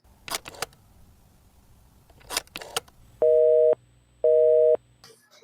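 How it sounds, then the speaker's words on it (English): A telephone busy signal in a radio drama sounds as two identical steady buzzing tones, each about half a second long with a short gap, heard after a few soft rustling clicks. "Murray Hill 40098 is busy."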